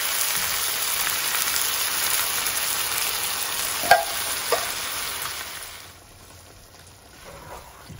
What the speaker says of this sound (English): So just mix it up with the coconut milk